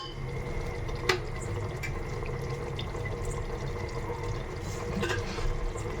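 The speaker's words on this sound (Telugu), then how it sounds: "సో హాఫ్ కేజీ చికెన్కి నేను ఇంత వాటర్ పోస్తున్నా" Water pours steadily onto half a kilo of chicken in a pressure cooker, a close continuous splashing trickle with a couple of brief clinks.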